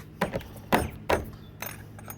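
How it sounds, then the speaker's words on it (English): Trunk key turning in the lock of a car trunk (Chevrolet Biscayne), giving three short metallic clicks and clunks followed by a softer rattle as the lid releases, close and fairly quiet. "get us a trunk key here and open the trunk up and check that out."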